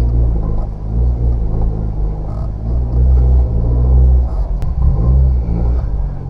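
A car's engine rumbles loud and close while it climbs a small ramp into a home garage, with the driver working the throttle and clutch so the revs swell and ease in low, uneven surges.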